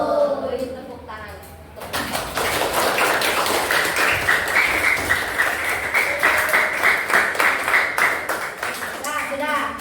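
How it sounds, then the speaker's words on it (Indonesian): A classroom of pupils claps together for a classmate's correct answer, a dense burst of hand claps running steadily for several seconds after a brief spoken voice, with voices returning at the end. "Beri tepuk tangan."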